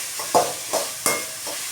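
Fried rice is stir-fried with soy sauce in a hot pan, with four quick scraping spatula strokes, each a short sharp swish, over a soft continuous sizzle.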